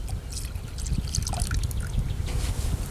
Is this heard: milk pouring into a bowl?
yes